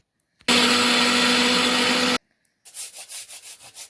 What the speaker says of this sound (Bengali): চালটাকে আমি মিক্সিতে দিচ্ছি।